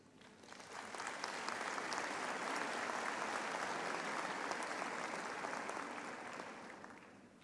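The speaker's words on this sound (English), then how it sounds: "I think all of you deserve a round of applause." Audience applause at a Faculty of Law graduation ceremony swells in and holds as steady, even clapping from a large hall crowd, then tapers off, fairly distant and soft.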